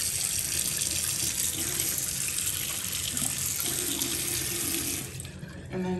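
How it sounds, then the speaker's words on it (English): Water runs steadily from a brushed gold bathroom faucet into a sink, a constant close splashing stream that stops abruptly near the end. "Let me show you that water flow again."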